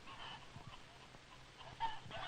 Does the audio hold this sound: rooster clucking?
yes